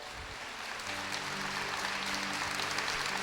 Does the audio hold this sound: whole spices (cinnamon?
no